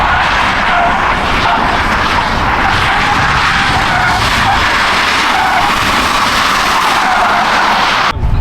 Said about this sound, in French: Mais on va aller drifter avec tout ça.